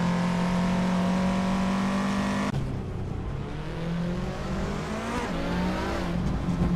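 A Ferrari 288 GTO classic supercar races with a loud sustained engine note, a steady high drone that drops abruptly as the car shifts or passes, then climbs again, mixed with other racing cars.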